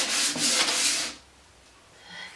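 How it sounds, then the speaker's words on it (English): A sander rubs across wood to remove Sharpie marks around the edge of a cut frame in a van build, a close, loud rasping hiss for about a second before stopping. "we can just use a sander just to sand off the bits of Sharpie around the edge"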